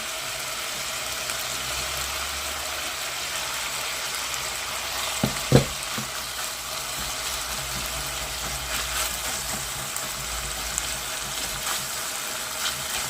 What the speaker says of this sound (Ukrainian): І обсмажуємо цибульку теж до такого золотистого кольору.